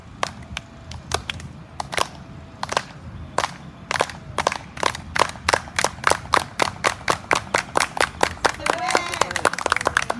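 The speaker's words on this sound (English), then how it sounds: "they would start with the aplauso organizado, the organized clap. So they would start real slow, and then they would build up" Community group doing an organized clap at a Texas–Mexico border gathering: sharp unison claps start sparse and slow, then quicken into a rapid, accelerating rhythm, loud and near, with faint voices in the background.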